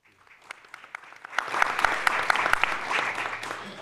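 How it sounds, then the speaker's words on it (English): Audience in a conference hall applauds after a leadership panel speaker, scattered claps building into steady moderate applause that carries on to the end. "Mr. Kutty, I hope you can hear the applause that you got in the room for that."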